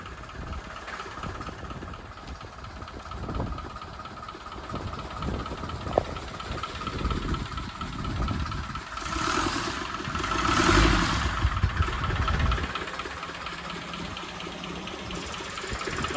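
An old tractor engine runs steadily with a deep, throaty, knocking chug, its rough low rumble swelling slightly midway before settling back to a steady idle-like beat, close and without talk.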